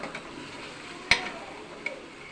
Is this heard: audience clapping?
no